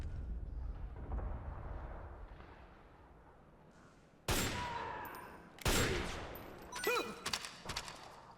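Gunfire in Metal Gear Solid 4 after a quiet stretch: a heavy shot with recoil, then further loud shots with ringing metallic tails and rapid follow-ups, close and punchy.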